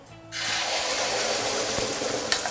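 Egg sliding into heated oil in a wok over lowered flame, giving a sudden steady frying hiss that starts abruptly and holds loud and continuous, with a faint tap near the end.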